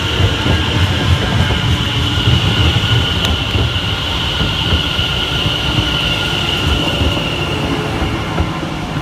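A Greater Anglia double-unit train passes close by on the Great Eastern Main Line, a loud steady rumble of wheels and carriages with faint clatter sustained throughout, no voices.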